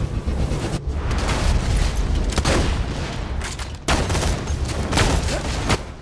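Rapid gunfire from a Borderlands 2 firefight with Doc Mercy, who carries an iridium gun. Dense overlapping shots and blasts run almost continuously, loud and close, with brief gaps near the start and middle.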